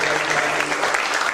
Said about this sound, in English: can we have a big round of applause, everybody